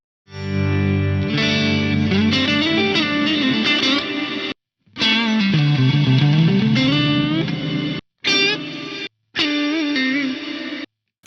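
Electric guitar run through a reverse reverb effect on an Axe-Fx III, producing swelling, sustained chords that bloom in and cut off abruptly in several loud phrases with short silent gaps.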